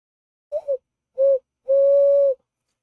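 A person's voice imitates a train whistle, three hooting toots: two quick short ones, then a longer sustained whistle, close and clear against silence.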